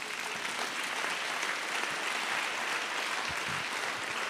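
A conference audience applauding at a lecture on the ethics and politics of neurodegenerative diseases: dense, even clapping from many hands fills the room without a break, steady and moderately loud throughout.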